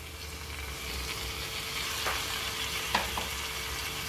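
Moth beans sauté in oil and spice masala, giving a steady, even sizzle with a few faint scraping stirs near the end and no voices.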